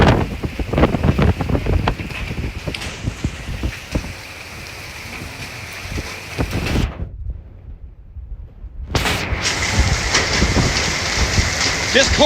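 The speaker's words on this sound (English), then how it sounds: "Wow, big wind. Big RFD wind." Strong rear-flank downdraft wind roars across the microphone during a Plains storm, buffeting loudly with rain noise and gusty bursts, dropping out briefly before surging back.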